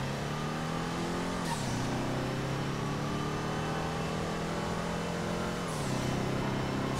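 Broadway Classique car from GTA Online, tuned with a little extra power, engine revving hard and climbing in pitch, dropping at two gear shifts and then pulling up again, loud and steady throughout, with no talking.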